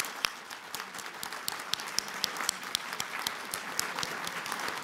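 An audience at a neighborhood best-practices conference gives a steady round of applause, dense overlapping claps with a few sharper individual hits standing out, continuing throughout without talk.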